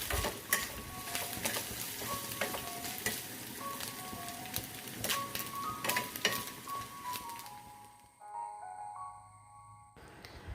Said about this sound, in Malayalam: നമ്മുടെ തേങ്ങാപ്പീരയും കൊച്ചുള്ളിയും വറ്റൽമുളകും ഒക്കെ നന്നായിട്ട് മൂത്ത് കിട്ടിയിട്ടുണ്ട്